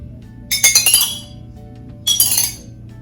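Glass bottles used as homemade percussion instruments clink in two bright, ringing bursts, a quick cluster of several taps followed after a pause by a shorter one, close and clear against a quiet room.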